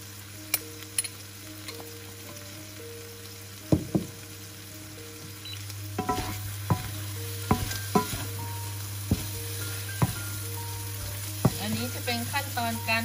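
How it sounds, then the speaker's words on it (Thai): Eggs seasoned with salt are stir-fried in a pan for fried rice, giving a continuous sizzle. A utensil clacks and scrapes against the pan in scattered knocks throughout. "เป็นขั้นตอนการผัดไข่นะคะ"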